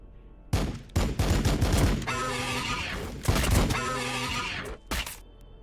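Heavy weapons fire rips through a Warhammer 40K Battlesector battle: several loud, dense bursts of automatic gunfire come in quick succession, separated by short gaps, with a final short burst at the end.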